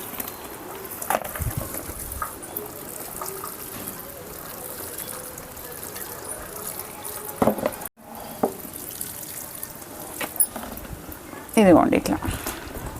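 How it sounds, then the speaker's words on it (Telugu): Water is poured onto potting soil in a tub in a terrace garden, a steady wet splashing and trickling up close, with a brief louder gush near the end and faint background voices. "బాగా కొంచెం కారే వరకు వాటర్ అయితే పోసుకోవాలండి"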